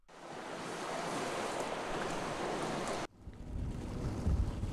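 Ocean waves wash steadily at sea from a boat during a search for finless porpoises, a loud broad rush mixed with wind buffeting the microphone, cut off abruptly partway and resuming as a lower, rumbling wash.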